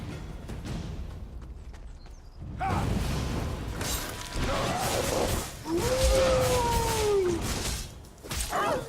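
A howl ability fires in The Elder Scrolls Online among clanking combat sounds, with a rising, drawn-out wail sweeping upward and then holding before it fades near the end.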